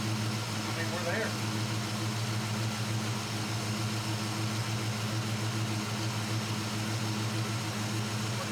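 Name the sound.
carbureted engine idling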